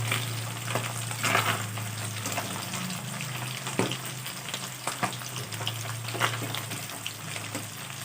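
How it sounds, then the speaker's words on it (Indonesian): Fish frying in hot, boiling cooking oil gives a steady close sizzle and crackle, with occasional sharper pops and stirring scrapes, and no voices over it. "Kalau minyak gorengnya sudah panas dan mendidih, lanjut goreng ikannya."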